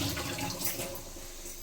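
Tap water runs steadily over tomatoes being washed in a kitchen, a close continuous splashing rush with no voices.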